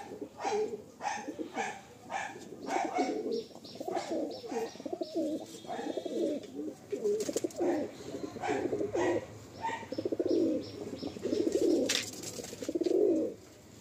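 Madrasi pigeons coo repeatedly in a loft in soft, throaty rolling calls close by, with short bursts of wing flutter and a few sharper bird chirps between them.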